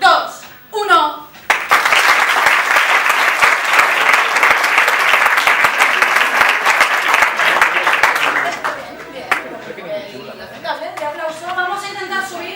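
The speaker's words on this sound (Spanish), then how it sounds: "el público debe aplaudir. Vamos a entrenarnos en 3, 2, 1..." A theatre audience at an improvisation match bursts into loud, sustained applause for about seven seconds, a thick, even wash of clapping. A voice speaks just before it starts and again after it fades.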